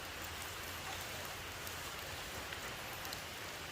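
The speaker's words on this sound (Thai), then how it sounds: "ฝนตกอยู่นะครับ" Steady rain pours down in a continuous, even hiss, with no pauses or voices over it.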